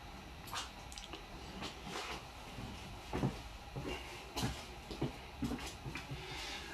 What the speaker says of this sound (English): So let's open the box and let's see what you get inside.